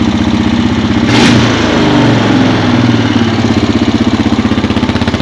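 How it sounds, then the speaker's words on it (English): Honda 450ES ATV engine idling fast with the choke on, a steady loud close-up drone with a brief surge early on, no talking. "Now that idle might be just a skosh high."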